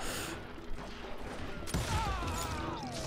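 Gunfire and impacts in the Call of Juarez Gunslinger western shooter game: a few sharp cracks and a crash around the middle, over a background of game music and ambience, with some whistling tonal effects afterward.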